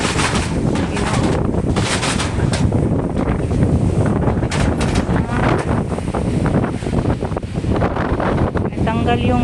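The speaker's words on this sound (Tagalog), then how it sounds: "maingay pag malakas ang hangin" Strong wind gusts buffet the microphone continuously, a loud, broadband roar with rattling and flapping, while someone speaks over it in a fearful voice.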